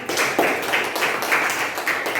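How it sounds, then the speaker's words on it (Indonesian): A classroom group gives students a short round of applause, with overlapping claps forming a steady, moderately loud patter heard close with no talking. "tepuk tangan untuk mereka"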